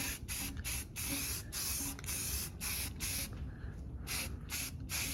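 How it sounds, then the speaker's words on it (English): An aerosol can of white spray paint hisses in repeated short bursts, separated by brief pauses, close and fairly loud. "spray painted them with some white paint"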